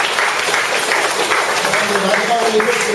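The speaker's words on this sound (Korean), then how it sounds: "박수 한번 해주실래요?" Audience applause in a Korean church during a sermon, a steady, loud wash of clapping lasting throughout, with some voices mixed in underneath.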